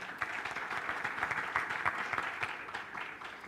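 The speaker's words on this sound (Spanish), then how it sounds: "Un gran aplauso también" Steady applause from a conference panel audience, dense overlapping claps sustained at even loudness throughout, with no voices over it.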